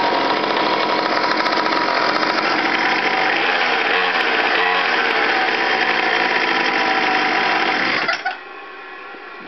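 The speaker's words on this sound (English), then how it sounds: "I'll give it a little bit of a start for you." Homemade 49cc two-stroke motorized bike engine runs loud and close with a steady buzzing drone, then cuts off abruptly near the end, leaving quiet.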